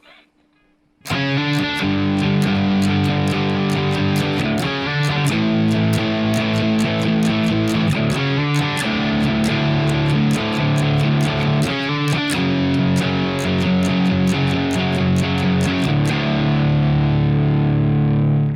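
After a moment of quiet, a heavily distorted electric guitar plays a driving rhythm part of chugging power chords, loud and steady throughout.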